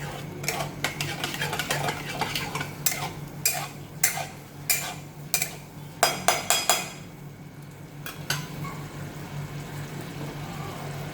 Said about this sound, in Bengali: এবার একটু নাড়িয়ে দিলাম।